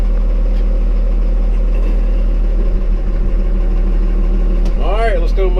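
An engine idles while warming up after a hard start, before logs are moved on a wood-cutting day. It is a loud, steady, low rumble throughout, and a voice briefly rises over it near the end.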